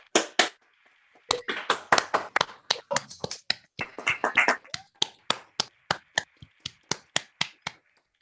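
Scattered claps from an audience at a university medical school graduation ceremony, sharp irregular hand strikes rising into a brief burst of applause and then thinning to sparse single claps.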